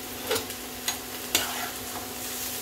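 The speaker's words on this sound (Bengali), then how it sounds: "এবার মশলাটা আমি ভালো করে কষিয়ে নিচ্ছি।" Spice paste with garlic is stir-fried for a green pumpkin curry, giving a steady close sizzle broken by a few sharp scrapes of a spatula against the pan.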